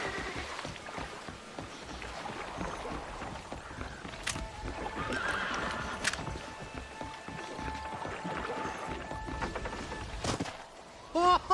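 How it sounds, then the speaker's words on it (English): Horses whinny and shift about in a Western scene from the video game Red Dead Redemption, with a clear neigh over ambient outdoor noise and a few faint hoof sounds. "Oh, these horses look fresher."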